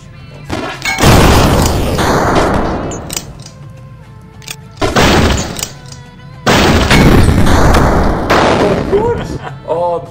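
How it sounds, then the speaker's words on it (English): Grenade blasts erupt in the Super Fighters game, several loud, broad booms with crackling debris tails spread across the stretch, separated by quieter gaps with faint game sounds. "Oh, I blew off a grenade on myself."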